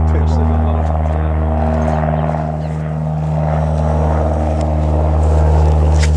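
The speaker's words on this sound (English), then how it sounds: "There's Peter, he's on his first flight." A steady single-engine propeller airplane hums continuously in flight, loud and close, with a constant low engine tone throughout and no break.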